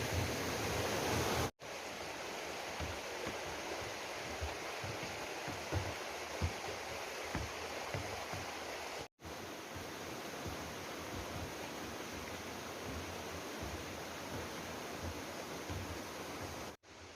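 A clear mountain stream flows through the green Baemsagol valley, a steady close rush of water running without pause, with no voices over it.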